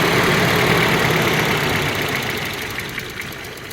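A Volvo 940 with a fuel pump problem idles roughly, a dense mechanical engine rumble close by that slowly weakens as if about to stall, with no talking.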